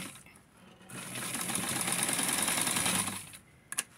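A sewing machine stitches a fully lined Barbie doll coat in one continuous run of about two seconds, close and clear, with quiet handling noise before and after.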